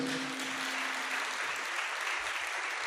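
A congregation at a Sunday church worship service claps loudly, a dense, steady wash of applause lasting the full three seconds with no talking over it.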